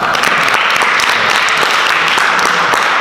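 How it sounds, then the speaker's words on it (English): An audience at an open skit night applauds after a performance, dense loud clapping from many hands that holds steady from start to finish. "how about we give them a round of applause?"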